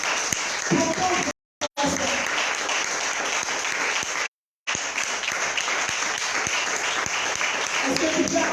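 Dense, steady applause from a church conference crowd, twice briefly cut to silence, with some voices mixed in underneath.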